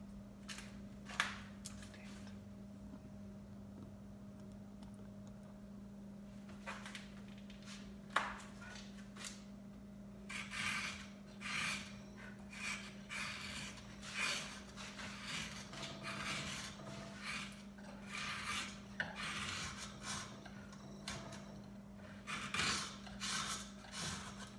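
Hand chisels carving soft wood in a garage workshop, with repeated scraping and rasping cuts in irregular bursts, closer and busier in the second half over a steady background hum.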